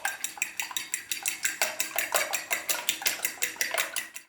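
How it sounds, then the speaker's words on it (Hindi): Two eggs with salt being beaten in a bowl, a fast steady clatter of a utensil against the dish repeating throughout, close and alone without talk. "2 अदद अंडे थे मैंने अच्छे से बीट कर लिए नमक डाल के।"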